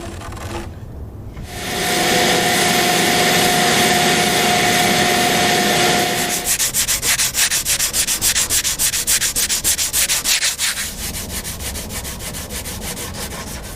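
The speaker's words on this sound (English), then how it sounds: "I just spent a little time sanding this edge." Hand sanding along the edge of a catamaran rudder during epoxy repair work, a loud continuous gritty rasp that turns into quick rhythmic back-and-forth strokes, near and with no talking.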